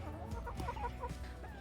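Chickens on a homestead farm cluck and murmur close by in short, overlapping calls, with no one speaking.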